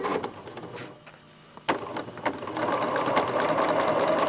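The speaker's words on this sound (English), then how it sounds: "gently push down on the pedal" A sewing machine stitches a straight line. After a brief quiet pause it starts up close with a steady, fast mechanical whir and rhythmic needle clatter that keeps running to the end.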